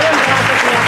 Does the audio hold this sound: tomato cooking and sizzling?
no